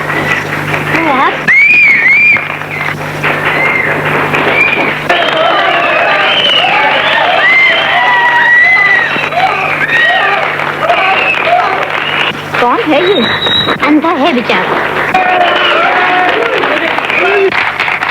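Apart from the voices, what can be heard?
audience applauding loudly after a speech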